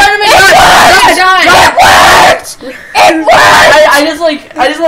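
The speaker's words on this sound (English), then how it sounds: "When in doubt, scream and shout." People scream, yell and wail in loud, overlapping bursts that stop for a moment and then pick up again, set during a night-time horror game about Slender.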